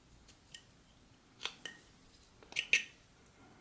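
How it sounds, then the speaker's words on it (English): A whittling knife shaves wood from a small carved figure, heard as a handful of quiet, crisp scraping snicks spaced unevenly over a few seconds, with no speech. "You can kind of just put your knife in there and just remove that wood"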